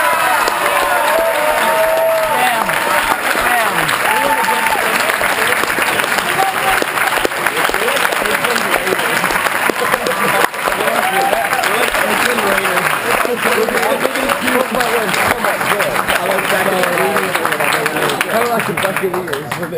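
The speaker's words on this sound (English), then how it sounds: "Give him some clap." An audience at a mock trial awards ceremony applauds the River Academy as this year's Values Award recipient, a loud, steady roar of clapping and crowd noise that holds for the full twenty seconds with voices mixed in.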